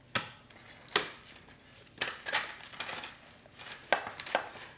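A knife chops through a pulled pork Cuban-style sandwich, cutting it into fourths, with several sharp, close cuts and board knocks spaced about a second apart, plus faint handling noise between them.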